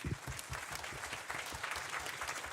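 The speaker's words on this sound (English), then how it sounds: "I want to give you a round of applause." Steady applause from a crowd, many hands clapping densely and evenly throughout, fairly loud and continuous.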